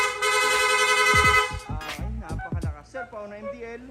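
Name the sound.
PIAA dual horn in rapid mode on Honda ADV160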